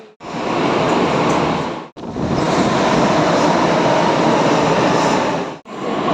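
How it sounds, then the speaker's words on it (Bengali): A metro train is heard loud and close, giving a continuous heavy rumble and roar that breaks off in sharp gaps, with no voices. "মেট্রো থেকে আমি নামলাম, নেমে এখন"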